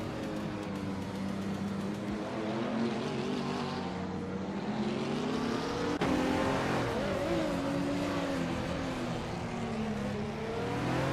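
A 2008 KTM Crossbow GT4 race car in a racing video game drones with a continuous engine note that rises and falls through shifts and revs, with other cars close by and brief tire squeal.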